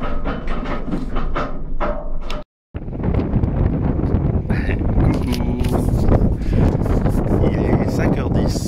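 Heavy, roaring wind buffets the microphone almost continuously, with a brief cutout, as a person talks underneath the gusts.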